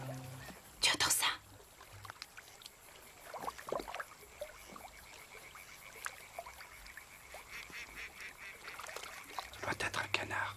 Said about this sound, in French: Doit être un canard.